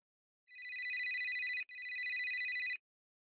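A telephone rings indoors with two bright electronic trills separated by a very short gap, each about a second long, moderately loud and otherwise alone in silence.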